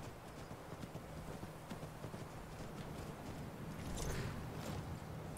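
In the video game Skyrim Special Edition, a horse walks with steady clip-clop hooves at an even pace, close and moderately loud over a low constant hum, with no talking.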